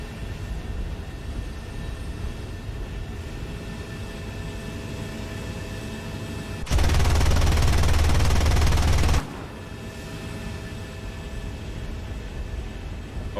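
Aircraft machine guns strafing a ground target in the War Thunder video game: one dense, roaring burst of rapid fire lasting a few seconds, loud over a steady engine drone.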